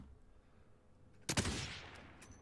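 A single loud gunshot in a shooter video game cracks out of a quiet, low background, then a bright echoing tail fades over about a second, with faint pops near the end.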